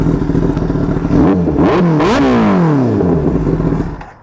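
A BMW S1000RR 1000cc superbike engine revs hard and close, climbing sharply twice and then winding down in a long falling howl over a loud, rough idle.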